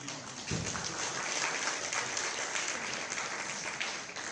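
Audience applause at a phone launch conference in Côte d'Ivoire, a dense, steady patter of many hands clapping that swells in after a brief start and holds loud and even throughout.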